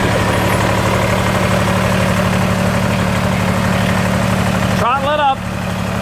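A Kubota BX25D compact tractor's engine idles with a steady low, even rumble, close and continuous, with a brief voice cutting in near the end.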